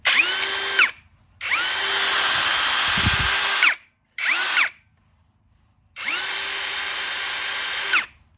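A cheap Eltos DA-16 BL cordless brushless drill whirs at first speed in three bursts, steady and close, with a short blip between the longer runs and brief silences separating them.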